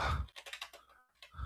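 Fast typing on a computer keyboard: a quick, close burst of light key clicks, faint and without speech.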